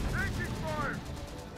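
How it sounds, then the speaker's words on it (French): A heavy turret fires in Terminator Dark Fate Defiance, rapid game gunfire bursts with whistling tones, moderately loud, mixed under other battle sounds. "Là on a la tourelle lourde qui fait le taf."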